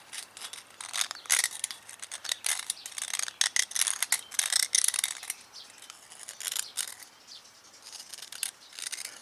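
Steel pointed seal pick scraping corrosion from an aluminum motorcycle brake caliper during a rebuild, a run of dry, scratchy clicks and short rasping scrapes, close and fairly quiet, with no talking.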